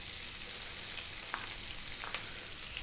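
Onion and curry leaves fry in hot oil over medium heat, a steady soft sizzle with a couple of faint clinks, no voice heard.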